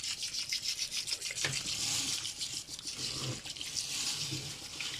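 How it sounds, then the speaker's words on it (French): Mountain spring water poured over Japanese rice to wet it, a steady close hiss of running water with faint splashing and no talk. "on va mouiller le riz avec de l'eau de source de montagne"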